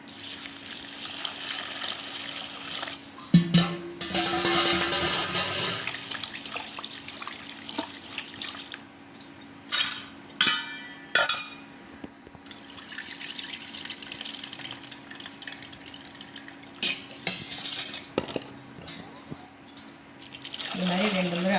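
Flattened rice (aval) is rinsed by hand in a bowl of water, with sloshing, dripping and intermittent splashes over a soft background hum.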